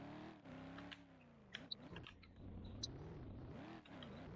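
A car drives in the Roblox video game, its engine droning and rising and falling in pitch as it revs, with a few brief sharp game sounds over the steady hum.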